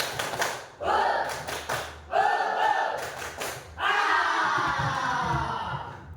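Students in a junior high classroom do a group spirit clap chant: clusters of rhythmic claps break up stretches of loud unison chanting, ending in a long sustained group shout.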